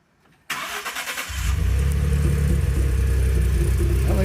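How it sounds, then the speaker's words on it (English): A 2011 Ford F-150 pickup engine with an exhaust leak turns over and settles into a loud, steady rumbling idle with a deep, throaty exhaust drone, close by. "we are back with our 2011 Ford F-150 with the suspected exhaust leak"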